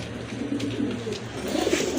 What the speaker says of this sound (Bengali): দেখেন খুবই সুন্দর অনেক ভালো কবুতর